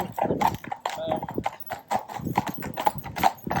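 Hooves clip-clop in a steady walking rhythm on a hard surface, close and fairly loud, with a voice talking faintly underneath.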